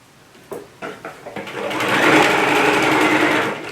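A home sewing machine sewing an apron, a few short stitch bursts at first, then a fast continuous whirring run of stitching, close and loud before slowing at the end.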